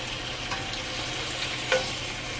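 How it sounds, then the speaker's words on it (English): Bacon sizzling and frying in a non-stick pan, a steady soft crackle with a brief scrape of a metal utensil turning the strips partway through. "Flip my bacon over."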